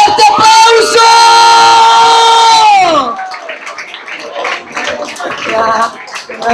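A long held vocal shout opens a live rap concert, then a crowd in the audience breaks into steady cheering and applause that continues at moderate loudness to the end.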